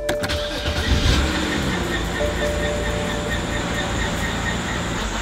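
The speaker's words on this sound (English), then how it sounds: "I don't know if you guys can hear it, but it's like squealing really bad" BMW 328i with an N52 engine running with a badly squealing belt, a steady close engine drone with a thin high whine over it after a brief start-up burst.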